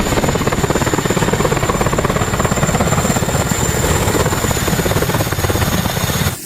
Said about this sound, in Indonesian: Lihat nih, ada helikopter baling-baling 2.